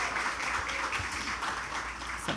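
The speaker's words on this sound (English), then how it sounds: "one final round of applause for all the 18 writers presented" Brief round of applause from an audience at a book launch for a writers' anthology, a continuous soft wash of clapping heard from a distance at low volume.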